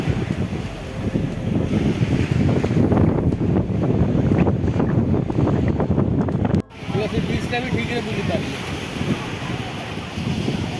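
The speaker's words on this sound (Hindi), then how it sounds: "এটা ইন্ডিয়ান ওশান, এটা বে অফ বেঙ্গল।" Ocean surf and strong wind on the Indian Ocean and Bay of Bengal shore near Dhanushkodi, Rameshwaram, with a continuous broad roar of waves and gusts buffeting the microphone, and voices talking beneath.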